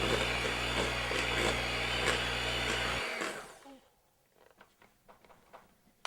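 An electric hand mixer whirs steadily through cookie batter for about three seconds, a loud continuous drone, then cuts off abruptly, leaving faint clinks and quiet handling noises.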